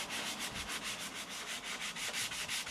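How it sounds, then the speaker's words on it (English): Hand sanding on a boat's starboard side under a tarpaulin, a quick steady back-and-forth scratching rhythm of strokes, close and fairly soft, with no talk. "More freaking sanding."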